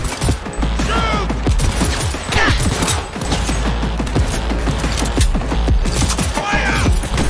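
Dense rapid gunfire from a video game rattles continuously in close, loud overlapping bursts, with mechanical clicking textures and brief gaps.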